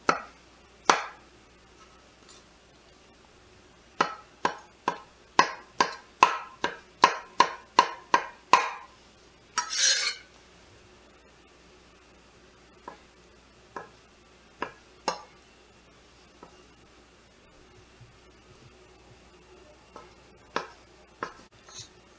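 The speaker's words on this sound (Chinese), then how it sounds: "皮蛋和咸蛋呢，薄皮给它切成小粒。" A kitchen knife chops century egg and salted egg into small pieces on a board, sharp dry strikes in quick rhythmic bursts, then sparser single taps after a pause, close and clear with no talking.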